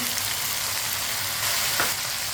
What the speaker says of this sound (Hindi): अब टमाटर को भी 2 मिनट के लिए पका लेंगे।